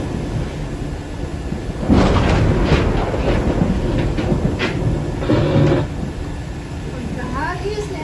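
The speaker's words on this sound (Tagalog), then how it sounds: "Walang tigil ang malakas na ulan" Heavy, unceasing rain roars as a steady dense wash that swells louder partway through, with rumbling noise in the low end and voices speaking over it.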